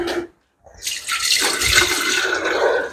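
Water is poured from a jug into a cooking pot set to boil, a brief splash, a short pause, then a steady full gushing stream that drums and rises as the pot fills, close and loud.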